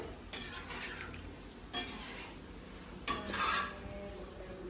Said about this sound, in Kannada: ಇದನ್ನ ಚೆನ್ನಾಗಿ ಫಾಸ್ಟ್ ಗ್ಯಾಸಲ್ಲಿ ಒಂದು ಸ್ವಲ್ಪ ಬ್ರೌನ್ ಆಗೋ ತನಕ ಫ್ರೈ ಮಾಡಿ